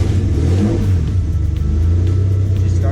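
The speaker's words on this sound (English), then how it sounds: "So once I start up my rear engine," A rear-mounted car engine being started on a vehicle fitted with a line lock, settling into a loud, steady, deep rumble that runs unbroken throughout.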